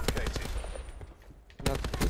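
Rapid bursts of gunfire in Call of Duty Black Ops 4 Hardpoint multiplayer, loud and close, dense shots at the start, a lull, then another heavy burst, with brief voices mixed in.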